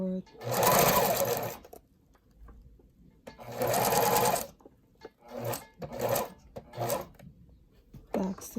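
Sewing machine stitching a two-colour ribbon tutu, running in two long bursts and then several short back-and-forth stitching spurts, close and steady.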